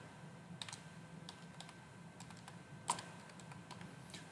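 Keys clatter on a computer keyboard in steady, uneven bursts of clicks, close and fairly quiet, with a sharper tap near the middle, while someone types out a website sign-up form.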